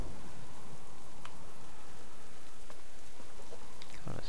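Steady rainfall in the survival game Subsistence makes a constant, fairly loud wash of hiss. A couple of faint ticks and patters sit on top of the rain, and no voice is heard.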